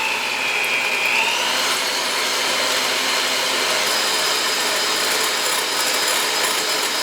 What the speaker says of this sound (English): I'm going to grab my mixer and I want to start mixing these up until I get stiff